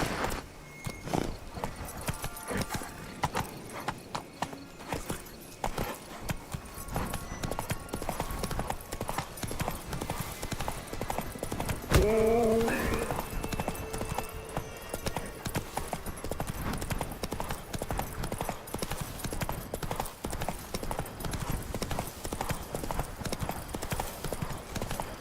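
Roach, the horse in The Witcher 3, trots with continuous, even hoof clip-clops under ambient game sound, with a brief snort or whinny around the middle and occasional speech.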